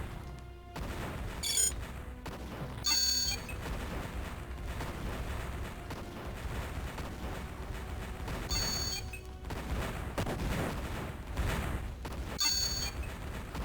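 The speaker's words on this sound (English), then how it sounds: "that mobile artillery is shooting on this tank" Mobile artillery and gunfire shelling a tank in the Imperium Galactica strategy video game, a steady rumble of distant blasts and shots with sharp impacts recurring throughout.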